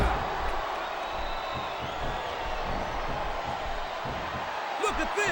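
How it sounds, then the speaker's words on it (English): A wrestling video game arena crowd from WWE Smackdown vs Raw 2007 roars steadily in the background, a dense continuous murmur with occasional whoops, under commentators talking. "I think these superstars are getting some feedback from the crowd, JR."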